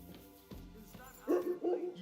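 A dog in the medieval game Kingdom Come: Deliverance II gives two short, close barks near the end, following quieter background thumps and ambience.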